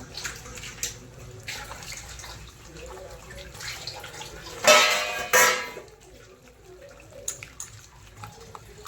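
Water splashes into a bowl of goli baje batter in two quick pours near the middle, over faint background clatter.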